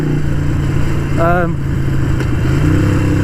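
A Harley-Davidson Sportster 883 Iron motorcycle riding on greasy roads, its engine a steady loud drone throughout with a brief higher whine partway through.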